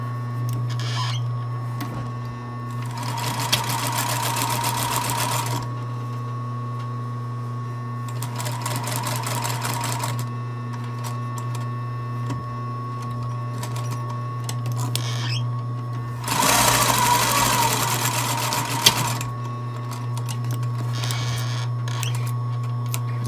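Sewing machine running close up while stitching the side seam of a tiny orange sweater, in three distinct bursts of fast whirring separated by quieter pauses, over a steady background hum, with no talk.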